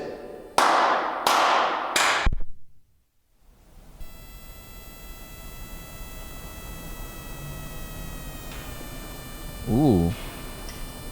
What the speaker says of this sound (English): Can you please clap for us like this?